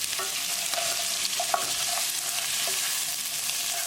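Onion fries in a pan for lobster curry, a steady close sizzle with occasional scrapes and clinks from stirring, no voices.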